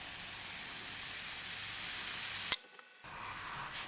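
Pancake batter sizzles steadily in a buttered pan, a close, even hiss that runs on without a break, then cuts out abruptly for a moment before returning softly.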